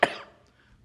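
A single short cough from a host in a real estate radio studio, sharp and close, then fading into quiet.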